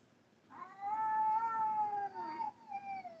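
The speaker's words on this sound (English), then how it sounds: "You got those two bruisers in the background talking cat talk." Two cats caterwaul in a long, drawn-out, wavering yowl that rises and bends in pitch, fairly clear and steady for a couple of seconds before tapering off.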